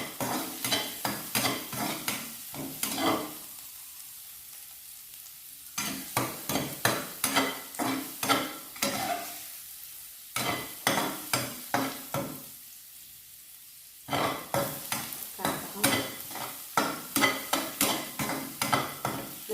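Egg stir-fried in a home kitchen pan, with rhythmic bursts of spatula scraping and sizzling broken by short quiet pauses, close and fairly loud, with no talking.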